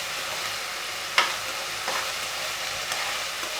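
Chopped onion with ginger garlic paste sautés in a pan, giving a steady sizzle with a few sharp spoon scrapes and stirs.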